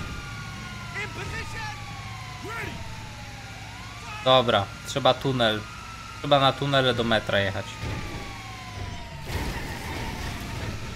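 Police sirens wail and sweep continuously behind the player in GTA V, joined by bursts of yelping siren tones, while someone talks over them.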